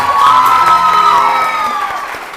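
A television morning show's studio audience clapping and cheering together, loud and continuous, with shouts and whoops rising over the applause.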